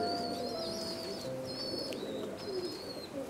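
Racing pigeons coo in a coop, giving soft, low, repeated calls close by, while sharper chirps recur in three short bursts over a faint background murmur.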